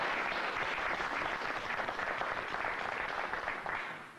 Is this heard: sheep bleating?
no